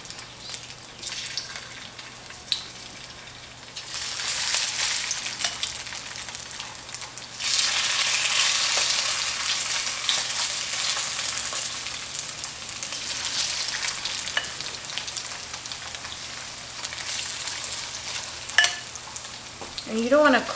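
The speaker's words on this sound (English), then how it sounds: "we're just kind of pan frying it." Chicken pieces pan-fry in olive oil for a chicken and mushroom stir fry, crackling and sizzling steadily. The sizzle surges louder as more pieces hit the pan, with occasional scraping stirs close to the microphone.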